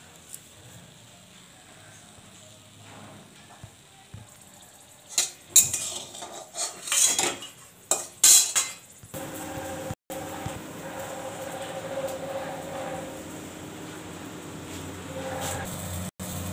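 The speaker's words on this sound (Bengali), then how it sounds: "বেগুন ভাজা এখন মাখবো" Fried eggplant being mashed by hand for Bengali begun bharta alongside chilli, onion and mustard oil, heard as soft squelching and clinking against a metal dish in bursts, with a scraping, stirring stretch toward the end.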